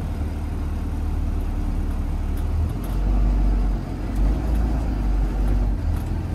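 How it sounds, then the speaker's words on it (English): School bus pulling ahead slowly for a low-speed service brake check during a CDL pre-trip test, with a steady low engine rumble that swells partway through as it accelerates, heard alone with no talk. "I'm going to accelerate to about 5 miles per hour, then press the service brake"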